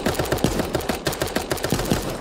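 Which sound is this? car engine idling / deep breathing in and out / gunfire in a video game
gunfire in a video game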